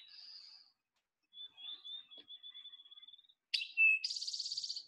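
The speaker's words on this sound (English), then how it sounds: "it's a field sparrow" A field sparrow sings faintly in the background, a thin series of high whistled notes that speed up toward a trill. A louder, nearer bird song with a sharp note and a buzzy trill follows.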